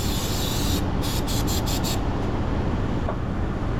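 A loud, steady hissing spray of throttle body cleaner on a Hyundai Genesis sedan, with several quick bursts pulsing in rapid succession partway through, close up.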